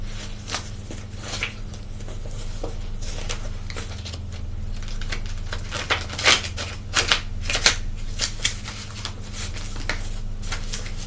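A deck of cards is shuffled for a reading, with repeated crisp riffles and papery flutters arriving in irregular bursts up close over a low steady hum, and no one speaks.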